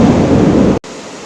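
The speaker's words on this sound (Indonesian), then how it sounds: "maaf tadi hujan ya, gunturnya cukup besar" Heavy rain with rumbling thunder, a loud dense roar that cuts off abruptly partway, followed by a softer wash of rainfall continuing alone.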